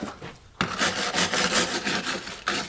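Bronze plates being scuffed to rough them up, a loud close rasping rub in repeated back-and-forth strokes after a brief quieter start.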